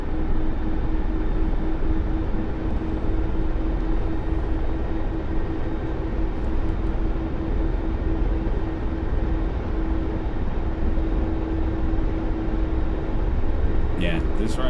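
A Mi-24 Hind helicopter in a flight simulator game gives a steady, dense rotor and turbine drone with a constant whine throughout, while a voice talks over it.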